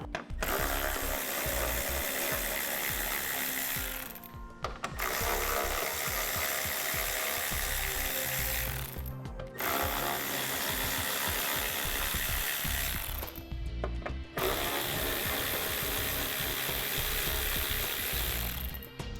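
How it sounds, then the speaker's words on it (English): A 10mm socket ratchet loosening bolts on a 2014 vehicle's front fascia with the hood open, loud close continuous clicking in long runs separated by three brief pauses. "We need to remove 1, 2, 3, 4 bolts using a 10mm socket."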